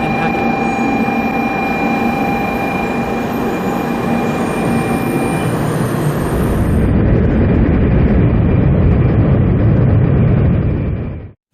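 A Shinkansen train running along the line, a loud steady rumble with high whining tones that gives way to heavier roaring wheel noise before cutting off abruptly.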